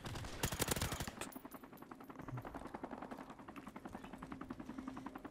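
Rapid M16 gunfire in the video game Call of Duty 4 Modern Warfare Remastered, a loud opening burst followed by sustained fast rhythmic shots continuing to the end.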